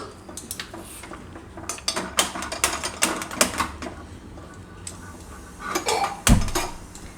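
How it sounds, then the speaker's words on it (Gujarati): A gas stove is switched on in a home kitchen: a series of close mechanical clicks and ratcheting knob sounds with some metallic pan clatter, ending in a sharper knock. "ને ગેસ ચાલુ કરશું"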